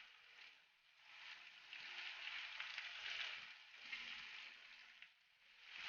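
Green chillies and curry leaves fry in hot oil with ginger and garlic for a pepper chicken dish, a soft continuous sizzle that swells and ebbs, fairly quiet and without talk.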